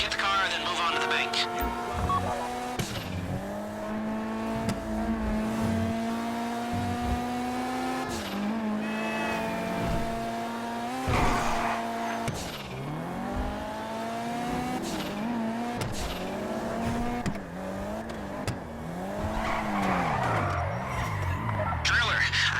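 A car from GTA 5 Online drives through the Fleeca Job heist, engine note rising and falling with gear shifts and tire squeal on turns, while players talk over it.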